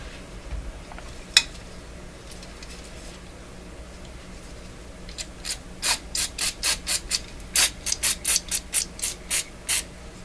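Cleaner sprayed into a PYE Model 762 radio receiver comes as a quick run of short, sharp hissing bursts in an even rhythm, close by. A single early burst comes after a quiet stretch, and no voices are heard.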